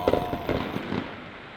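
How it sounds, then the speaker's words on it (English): Fireworks bursting in the distance at a Nebraska stop, a quick string of muffled pops and crackles over about a second, then fading away. "Oh, there's fireworks."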